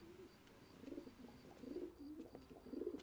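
Pigeons cooing in a coop in L.A. Noire, soft repeated throaty coos in a steady rolling pattern, fairly quiet and close, with no talk over them.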